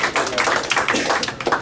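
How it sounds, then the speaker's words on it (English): Brief clapping from a small group at a sales training session, a quick flurry of overlapping hand claps, close and fairly loud, lasting under two seconds. "Let's give Caden a round of applause"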